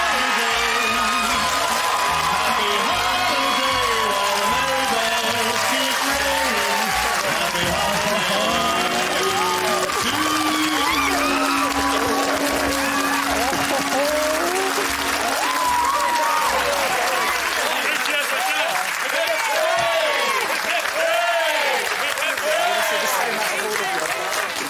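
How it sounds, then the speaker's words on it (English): A game show studio audience breaks into sustained loud cheering, clapping and whooping that carries on for the whole stretch, with scattered voices and shouts mixed into the crowd noise. "I hope there's going to be a big cheer"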